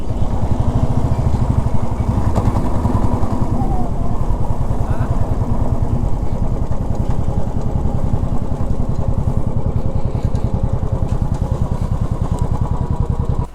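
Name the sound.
motorcycle engine running at petrol station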